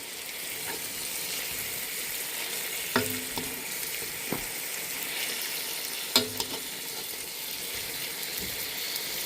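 Salmon pieces fry in a pan with a constant close sizzle. A couple of clinking knocks from a utensil break through as the fish is turned over, and no one speaks.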